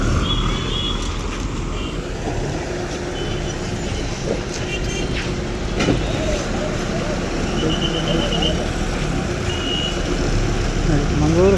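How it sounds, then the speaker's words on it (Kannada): KSRTC bus pulling out at Kotturu bus stand, engine rumbling steadily amid busy station noise, with faint repeated high reversing beeps and voices in the background. "ಮಂಗಳೂರು ಹಡಗಲಿ ಗಾಡಿ ಇದು ಅದೇ ರೂಟ್ ಅಲ್ವಾ, ಅದಕ್ಕಾಗಿ ಮೂವ್ ಮಾಡ್ತಾ ಇದ್ದಾನೆ ನೋಡಿ"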